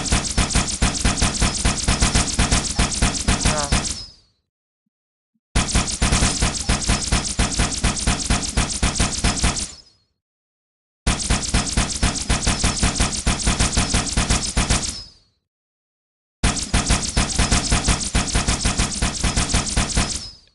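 SMG submachine gun in Halo firing in four long full-auto bursts, each about four seconds of rapid evenly spaced shots separated by brief silences, loud and close with no voices.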